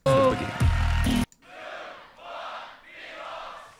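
Crowd at the Grand Beatbox Battle 2023 cheering and roaring in three swelling waves after a loud burst of music cuts off abruptly.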